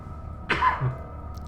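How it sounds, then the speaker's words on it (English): A single short cough from a player voicing a game playthrough, close to the microphone, standing alone against quiet background hum. "One sec, I have to cough."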